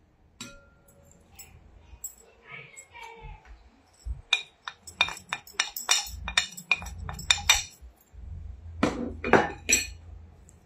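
Dry spices tipped into a marinade in a bowl, heard as sharp clinks of a metal spoon against the bowl and small containers, close and irregular, with a few quiet voices in between.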